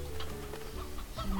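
Chickens cluck in the ranch game Slime Rancher, a few short soft calls scattered over steady low background music, with no talking.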